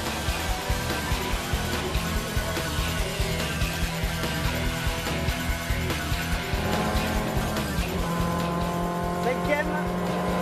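Renault 5 Alpine racing hard on a circuit toward a chicane, its engine droning loud and steady through the gears, with tire noise and someone talking over it.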